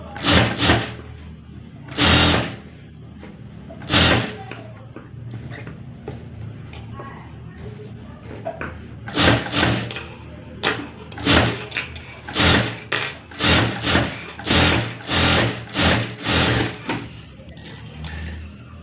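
A sewing machine stitches thread piping onto fabric lining, its motor running in short, loud bursts of rapid stitching separated by pauses, with the pace picking up into a steady run of closely spaced bursts near the end.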